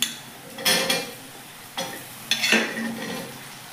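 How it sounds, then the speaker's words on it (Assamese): Cut radish and potatoes go into a hot frying pan with spices, giving several scraping, clattering stirs of a utensil against the pan in short bursts over a soft sizzle, close by. "এতিয়া আমি কাটি ৰখা এই মূলা আৰু আলুখিনি দি দিম"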